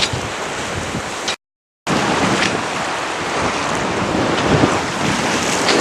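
Steady wind buffets the microphone and waves rush against the hull while sailing off Carmel Head in Anglesey, a continuous loud broadband roar with one brief dropout.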